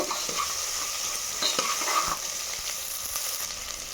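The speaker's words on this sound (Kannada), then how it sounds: "ಈರುಳ್ಳಿಯನ್ನು ಹಾಕೊಳ್ಳೋಣ ಮಿಕ್ಸ್ ಮಾಡ್ಕೊಳ್ಳಿ ಈರುಳ್ಳಿ ಇದರಲ್ಲಿ ಚೆನ್ನಾಗೆ ಮಿಕ್ಸ್ ಆಗುತ್ತೆ" Onions being stirred in a hot pan while cooking spinach and fenugreek pulao, giving a steady soft scraping and sizzling texture with small clicks of the spoon throughout, close and alone without talk.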